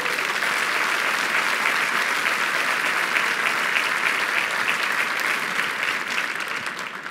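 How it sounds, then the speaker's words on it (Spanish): A church congregation applauds loudly during a sermon on the power of God, a broad, sustained roar of many hands clapping that fills the space evenly and fades slightly at the very end. "Den un aplauso fuerte al Señor."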